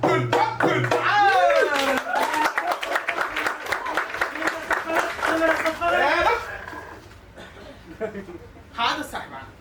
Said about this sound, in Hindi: जोर से बजाइए ताली और स्वागत कीजिए मेरा